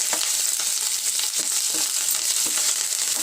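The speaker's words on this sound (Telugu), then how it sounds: "జీలకర్ర, వేసుకొని వేయించుకోవాలి." Cumin seeds and curry leaves fry in hot oil in a pan for coriander chutney, producing a continuous bright crackling sizzle up close with light spattering pops throughout.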